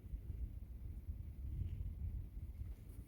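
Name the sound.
wind blowing outdoors on the Appalachian Trail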